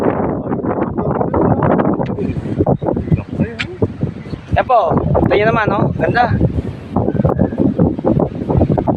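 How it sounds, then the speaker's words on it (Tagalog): Strong wind at the seaside buffets the microphone in a steady roar while someone talks over it, with a brief whistle-like tone partway through. "Medyo may kalakasan ng konti yung hangin"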